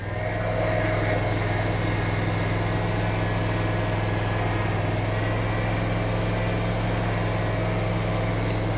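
A 2022 John Deere Z960M zero-turn mower runs steadily and close by as it drives and swings through a full turn, its engine a constant loud drone with no pauses and no voices.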